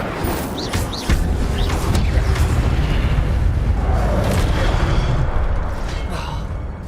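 A fire spell cast during Hogwarts Legacy gameplay on PS5: a dense, loud rumbling whoosh of flames with booming bursts that holds steady for several seconds, layered with brighter crackles and game effects.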